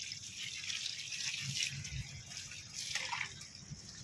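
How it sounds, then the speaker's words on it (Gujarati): Cold water poured over freshly made paneer, a steady watery splashing and trickling running nearby throughout, with a few louder gushes. "આવું નાખું પાણી ઠંડુ ઠંડુ પાણી"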